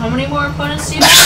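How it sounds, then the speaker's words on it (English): Someone speaks briefly, then a sudden sharp sneeze bursts out loud and close at the very end. "When I sneeze, I clench my teeth."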